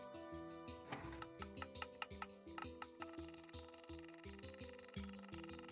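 Steady rapid ticking and clicking from a Minecraft observer clock, with repeated sharp ticks in an even rhythm alongside pitched mechanical tones, loud and close, no voices.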